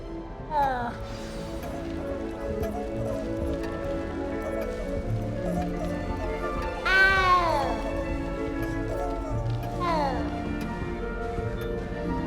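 Cat in the Hogwarts Legacy video game, meowing three times over a low ambient music bed, with one louder drawn-out yowl in the middle and people talking now and then.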